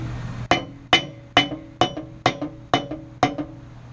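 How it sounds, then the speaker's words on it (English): A ball peen hammer taps out bolt holes for an intercooler air leak repair, striking seven times in an even, steady rhythm, each blow a sharp close metallic clink over a low background hum. "when you want to make your bolt holes, take the ball peen side of your hammer."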